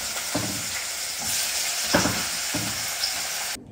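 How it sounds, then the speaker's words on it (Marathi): Spices hiss and crackle as they are tempered in hot oil for dal in a home kitchen, a continuous sizzle with a few louder pops that cuts off abruptly at the end, with no voices. "इथे आता वरणाला फोडणी देते"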